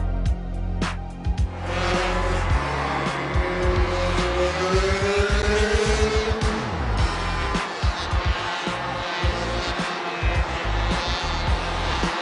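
Racing motorcycles and sidecars run a sighting lap at Red Lodge, engines droning loudly and continuously with passing swells, tyre noise and revving.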